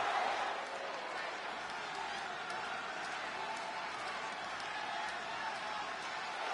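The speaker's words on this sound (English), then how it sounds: "It's great to hear the crowd give this superstar the reception he deserves" A large crowd in a wrestling video game roars and cheers continuously at a distance, a steady broad wash of noise with scattered claps mixed in.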